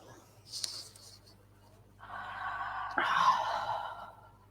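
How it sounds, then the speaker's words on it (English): A person drawing a deep breath in during a laughter and breathing exercise, a brief breathy gasp followed by a longer rising inhale, close and fairly quiet. "So let's take a deep breath in now"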